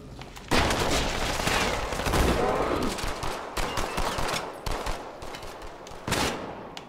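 Halo 2 video game gunfire comes in dense, loud, rapid bursts of automatic shots that continue almost without pause across the whole stretch.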